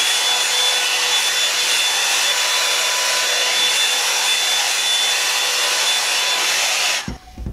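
A hot air brush drying hair roars steadily and loudly at close range for several seconds, a continuous airy blower whoosh with a faint whine, cutting off abruptly near the end.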